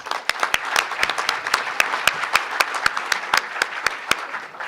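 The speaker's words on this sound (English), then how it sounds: "Round of applause for Bruce." A small group applauds Bruce at a Chicago Tribune election forecast event, sparse distinct claps in a loose irregular rhythm, close and alone without speech.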